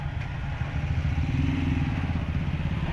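An owner-type jeep engine idles steadily with a low, rumbling, slightly rattling chug, close by and constant throughout.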